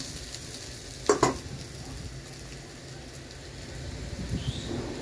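Pre-fried potatoes hiss in a hot pan, a steady close sizzle broken by a pair of sharp spatula scrapes early on and a few softer clinks near the end.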